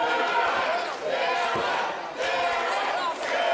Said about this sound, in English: This crowd here at Festival Hall Red Deer trying to fire up for Mr. Saturday.